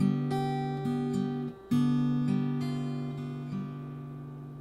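Acoustic guitar chords in a pre-chorus passage, strummed with open strings ringing, changing chords several times in a steady rhythm with a brief pause mid-phrase, close and clear with no talking.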